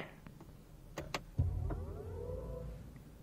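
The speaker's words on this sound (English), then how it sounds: "this is how the the car will start and this sound is also designed by Hans Zimmer" A BMW i4 electric car powering up inside the cabin: a few soft clicks and a thump, then a rising, sweeping synthetic start-up chime that swells and fades over a couple of seconds.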